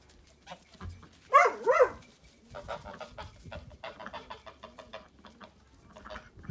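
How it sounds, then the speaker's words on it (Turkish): Chickens cluck in short, uneven calls, with one louder squawking burst early on, then a steady run of softer clucks nearby. "Bu bir tane de tavuk mudur artık, horoz mudur bilmiyorum."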